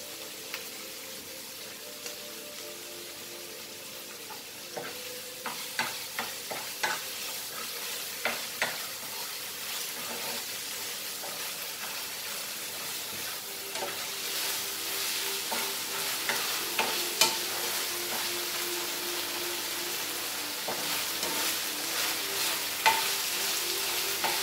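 Ginger garlic paste frying in a pan while being stirred: a steady soft sizzle underneath, with scattered light scraping clicks from the spoon growing more frequent midway, and no talking.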